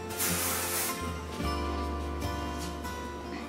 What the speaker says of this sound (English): Just gonna put a little hairspray.